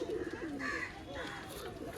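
Pet pigeons kept by a dealer coo softly nearby, several low, throaty warbles overlapping across two seconds, fairly quiet against a light background hum.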